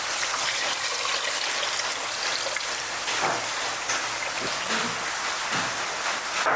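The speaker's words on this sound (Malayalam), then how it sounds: "ആ വെള്ളം ഇതിൽ ഒഴിക്കണം." Boiled water poured into a pressure cooker for chicken kabsa, a steady splashing rush that runs continuously at close range with no voices.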